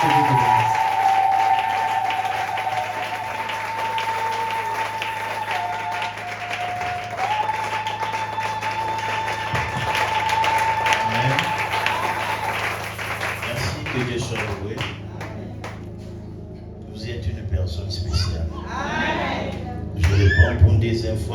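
A church congregation applauds to acclaim the Lord, sustained clapping and crowd noise under music and a speaking voice, loud and steady before thinning out.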